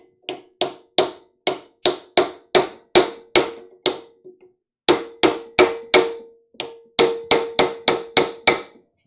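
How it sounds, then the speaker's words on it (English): A hammer strikes the thermostat housing of a Jeep 4.0 engine over and over, with sharp, loud metallic blows in quick steady runs, one brief pause midway, and a ringing decay after each hit. "Let's hit it on the thermostat housing spot a little bit."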